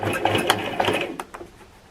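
A sewing machine stitches fabric while a skirt is refashioned into a dress, giving a close rapid mechanical chatter that slows into a few separate clicks and fades.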